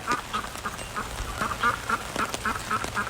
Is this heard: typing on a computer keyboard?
no